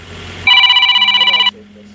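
Telephone ringer sounds with an incoming call, one sustained electronic trill of about a second, close and loud, followed by a low steady hum.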